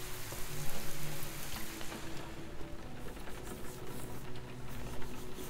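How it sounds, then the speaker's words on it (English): Steady rainfall in the survival game Sheltered 2, a dense, even hiss of drops pattering continuously throughout, with no voices. "So the rain is filling up our water butts"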